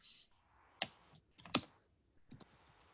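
Someone types on a real computer keyboard, with a few sharp, separate keystroke clicks and short bursts spaced across a quiet background. Nearby and fairly soft, with no speech.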